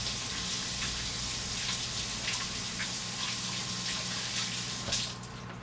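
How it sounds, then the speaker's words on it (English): Tap water runs steadily into a kitchen sink during hand washing, an even close splashing rush with scattered drips that thins out at the very end. "I'm going to wash my hands really quick"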